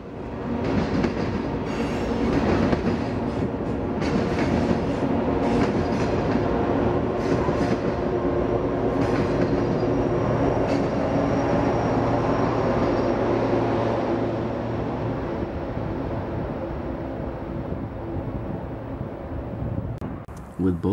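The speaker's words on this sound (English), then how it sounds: "With both UP trains clear, the BNSF train proceeds." A BNSF freight train rumbles steadily past on the tracks at Keddie Wye in the Feather River Canyon, loud and close, with clattering wheels and occasional metallic squeals, easing off slightly toward the end.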